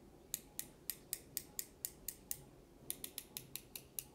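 The magnetic brake adjuster on a Soloking Flyplum R2 fly reel clicks through its detents, giving two quick runs of sharp, evenly spaced close-up clicks separated by a short pause.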